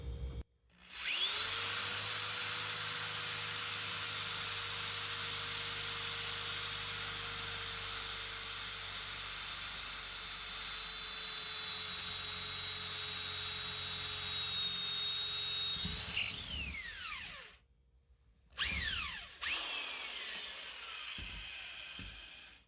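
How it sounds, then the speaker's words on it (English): A power drill boring a 3/8 inch hole through a plastic Dart Zone Magnum blaster part whines steadily at high speed for about fifteen seconds, then stops; after a short pause it spins up again briefly. "we're just going to drill a 3/8 inch hole right through the middle"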